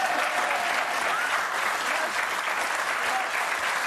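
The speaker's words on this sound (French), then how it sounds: "Cette dame, je voudrais qu'on applaudisse cette dame qui a perdu à cause de Gilles Verdez." A television studio audience applauds a contestant, a dense, steady wash of clapping from many hands that holds evenly throughout.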